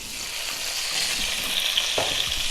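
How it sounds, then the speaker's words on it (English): Chili flakes and potatoes sizzle in hot oil in a pan, a dense crackling hiss throughout with a brief clatter near the end, no talking. "our chili flakes are starting to sizzle just slightly, which is exactly what you want"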